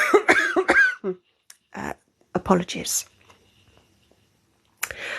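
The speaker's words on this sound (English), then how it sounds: "Sorry, Human's going to cough." Two or three sharp, close coughs from one person, with short bursts of speech before and after and quiet gaps between.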